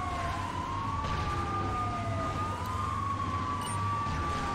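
In a driving video game, a police car siren wails in slow rising and falling sweeps, steady and continuous over a low rumble of traffic.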